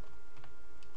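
Keys tapped on a computer keyboard at a Windows command prompt, a short run of light clicks close up over a steady background hum, with no voices.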